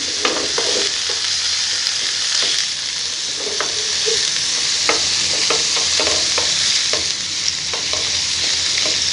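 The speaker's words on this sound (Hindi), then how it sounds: "तो यहाँ पे हम इसको मीडियम फ्लेम पे गोल्डन ब्राउन कर लेंगे प्याज को।" Finely chopped onions fry on a medium flame toward golden brown, a constant close hiss of oil broken by frequent light scrapes and taps of a stirring spoon, with no voices.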